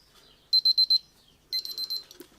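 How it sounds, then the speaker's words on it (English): A basic egg timer rings in two bursts of rapid, shrill, close beeps: four sharp pulses, a short pause, then another quick run of ringing. "it's a basic egg timer"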